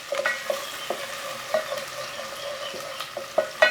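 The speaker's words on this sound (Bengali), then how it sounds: "এখন আমি এটা নাড়তে থাকছি।" Chopped onions and green chillies stirred as they fry in a pan: close, soft sizzling with a series of spoon scrapes and light knocks against the pan, steady and fairly quiet.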